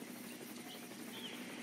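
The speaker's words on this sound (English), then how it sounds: "this is the military helicopter" Military helicopter in the Roblox game Mad City, a steady rotor and engine drone with hissy turbine wash, continuous and fairly close, with no talk over it.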